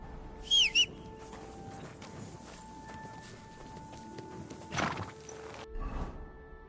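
A horse in the video game Kingdom Come Deliverance 2 gives a brief, high, wavering neigh near the start, followed by faint hoof clops and quiet ambient game sounds, with a soft snort-like burst later.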